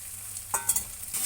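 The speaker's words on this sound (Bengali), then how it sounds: "আজকে একটু মশলায় ভেজে দিয়ে দিচ্ছি" Rohu fish pieces fry in spices in a pan, a soft steady sizzle with a few quick clinks and scrapes of a utensil in the middle; quiet and close, without talking.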